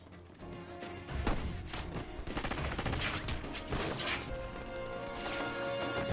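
Heavy gunfire in an action film scene, dense bursts of shots and crashing impacts rolling continuously over a loud, busy mix with no voices.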